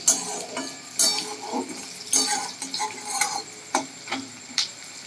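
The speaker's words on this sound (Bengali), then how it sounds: "পেঁয়াজটা এখানে মোটামুটি হাফ ভাজা হবে" Onions frying in oil with whole cumin in a home kitchen pan, with steady soft sizzling broken by several sharp clinks and scrapes of a utensil stirring against the pan, close and moderately loud with no talk.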